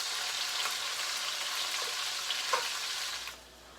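Pork going into a hot cooking pot with cut onion, a continuous sizzle with a few soft knocks that cuts off abruptly near the end, no voices.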